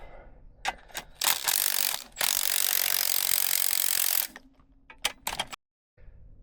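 Spring compressor bolts being wound back off a Nissan Micra suspension strut, with bursts of ratcheting and rubbing tool noise, a long continuous grinding wind, then a few sharp clicks and a short silence.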